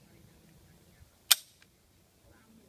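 A single sharp gunshot from a handgun fired at shooting practice, one crisp loud crack with a short decaying tail in an otherwise quiet moment.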